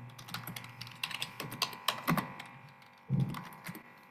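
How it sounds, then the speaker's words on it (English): Fingers type on a computer keyboard nearby in uneven bursts of sharp clicks, with short pauses and a few heavier keystrokes, with no one speaking. "don't worry, I'm typing it"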